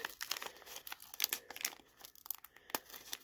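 A pack of 1991 Panini stickers being opened slowly, with close, crisp crinkling and short tearing of the wrapper in irregular bursts, no voices.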